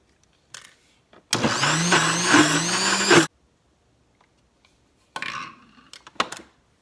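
Kitchen mixer grinder whirring loudly for about two seconds as it grinds ginger garlic paste with turmeric and salt, followed by quieter clatters and short bursts near the end.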